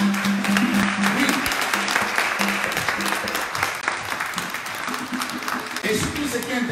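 A church congregation claps and cheers in loud, sustained applause filling a worship hall, steady throughout with voices mixed into the clapping.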